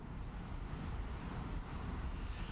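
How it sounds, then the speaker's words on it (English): Wind buffets a microphone on the beach at South Padre Island during tropical storm conditions, a steady faint rushing roar with low rumble, brief and without talking. "It's windy but sunny again here in South Padre Island."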